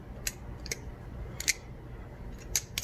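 A balisong butterfly knife, a custom Atropos Kali's Mercy, being flipped through scissors tricks: sharp metallic clicks and clacks come in scattered bursts, some single and some doubled, close and crisp over a quiet background.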